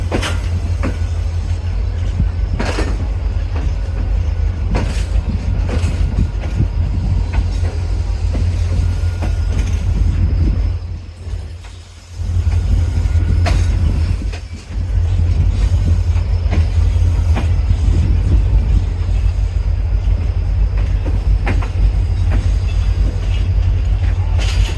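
The Shalimar Express passenger train rolls past close by with a loud, continuous rumble and rhythmic clickety-clack of wheels on rail joints, briefly dipping before the roar resumes and holds steady, with no voices.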